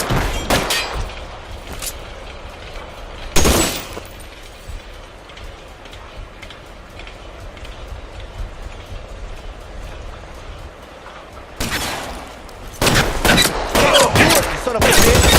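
Shootout gunfire in L.A. Noire: sharp, loud bursts of shots ring out at the start, again mid-clip, and in a rapid cluster near the end, with a low rumbling lull between volleys.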